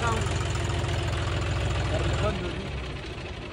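A new tractor idles nearby with a steady, low, rumbling throb that drops slightly in level after a couple of seconds.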